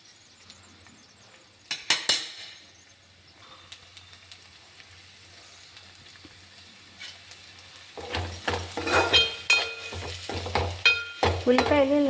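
Onions softening in a pan for a Telugu egg curry, a low simmering sizzle broken by sharp spoon clinks and scrapes against the pan, growing busier with rhythmic stirring toward the end.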